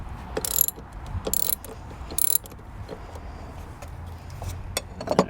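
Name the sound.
loosening the positive battery terminal on an Acura MDX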